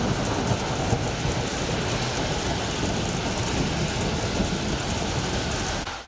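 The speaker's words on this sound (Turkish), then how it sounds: "Bu çerçevede akşam saatlerinde kentte gök gürültülü dolu yağışı meydana geldi." Heavy hail and rain pour down during an evening thunderstorm in Elazığ city center, a dense, loud, continuous roar of pelting ice and water with a low rumble underneath, steady throughout before cutting off at the end.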